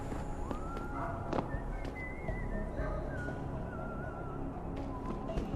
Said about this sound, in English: somebody's whistling the music from the original Deus Ex game